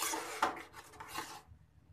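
Dry peas and dal being roasted and stirred in a pan for a green pea dal, with a few scraping, rubbing strokes of a spoon against the metal, close and moderately loud, no talking.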